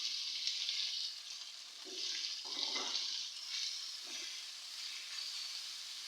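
Coarsely chopped onions, five or six of them, sizzle softly and steadily in a pan, a faint continuous hiss with occasional stirring scrapes and no voices.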